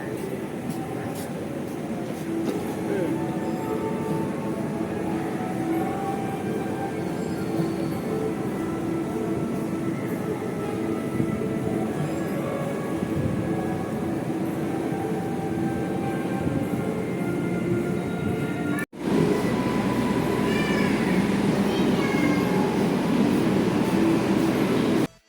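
The Joglosemarkerto passenger train at Yogyakarta station in Indonesia gives off a steady, moderately loud rumble and hum around a platform, continuing unbroken apart from one brief cut near the end.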